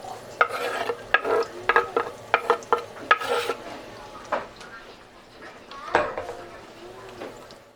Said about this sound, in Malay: Tumiskan sampai dia naik bau